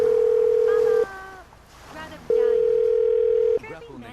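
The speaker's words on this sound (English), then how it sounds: "I'm dialing his phone number right now." A steady telephone dial tone sounds in two long stretches while a number is dialed, with short gaps between them and faint other sounds.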